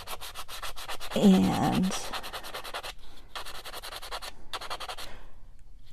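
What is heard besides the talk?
vintage buffing block buffing darkened copper wire leaf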